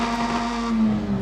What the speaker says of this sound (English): this is where you can hear the difference in the sound of the engine.